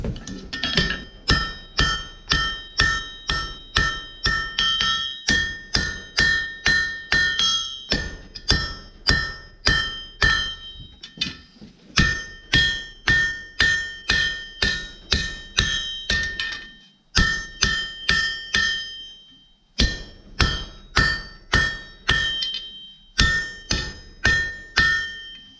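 Hammer strikes ring out on hot steel as a taper is forged on a pair of Viking-style stock tongs, steady rhythmic bursts of bright, clanging blows with brief pauses between runs, close and loud with no talk.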